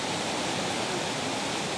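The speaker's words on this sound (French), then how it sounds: "il y a une belle cascade, vous avez vu?" Waterfall inside the Padirac cave, a steady, even rush of falling water filling the underground space, constant and unbroken.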